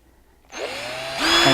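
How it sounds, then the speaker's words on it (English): A big power drill spins up to bore holes in small ornaments, its motor rising in pitch as it starts and then steadying to a loud, close whine. "drill 2 holes in each of the ornaments."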